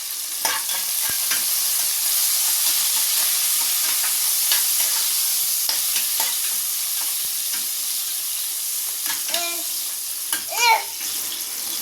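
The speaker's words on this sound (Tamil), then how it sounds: "இதை நல்லா வதங்க விட போகிறோம்." Onions with curry leaves and coriander sauté in a pan for a spicy Kerala-style chicken gravy, giving a steady, loud sizzling hiss broken by scattered spoon scrapes and clinks.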